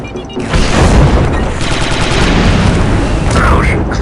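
A planted charge explodes in the video game Star Wars: Republic Commando: a loud, sustained burst of explosive gunfire and booming blasts, dense and continuous, with a sharper crackle near the end.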